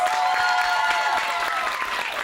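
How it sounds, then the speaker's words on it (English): A panel audience breaks into a big round of applause, dense continuous clapping that stays loud and even throughout the short stretch, with no voices on top. "can we give this panel a big round of applause"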